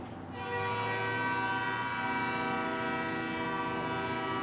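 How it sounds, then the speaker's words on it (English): A train passing with its horn sounding, a sustained loud multi-tone blast that swells in after a quiet start and holds steady without any talk. "Train."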